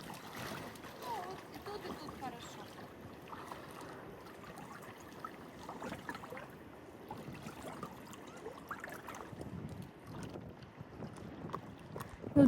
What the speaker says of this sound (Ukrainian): ну цей вітер, він мене просто настільки сильно бісить